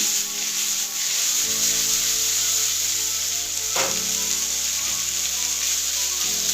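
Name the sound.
mixing vegetable sauté with sauce in pan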